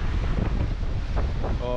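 Wind blows hard along a Limfjorden coast in winter, buffeting the microphone as a loud, continuous rumbling roar, with a voice speaking briefly at the very end.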